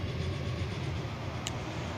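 A train in the railway simulation game Transport Fever rumbles steadily as a continuous low mechanical drone with no voices, holding a constant level throughout.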